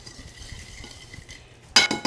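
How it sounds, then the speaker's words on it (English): A wire whisk beats sugars, butter and molasses together in a bowl, quiet at first, then a quick run of bright metallic clinks and scrapes against the bowl near the end. "Let's whisk together our sugars and butter."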